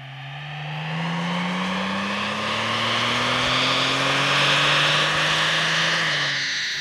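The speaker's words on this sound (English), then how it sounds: "The Kia Stinger comes with a dynamic control system where you can actually control the sound of the exhaust." A Kia Stinger GT fitted with a STILLEN cat-back exhaust sends out a loud, continuous rising drone as the engine revs and accelerates, the tone climbing steadily for several seconds with no voices present.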